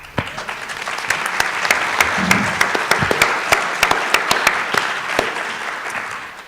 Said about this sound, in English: I'm going to ask you all to hold your applause now until the end